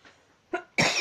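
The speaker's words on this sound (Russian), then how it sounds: "Прошу прощения за мой кашель." A single sharp cough, with a faint breathy lead-in, from a woman crafting a beaded snowflake pendant, close and alone with no talk.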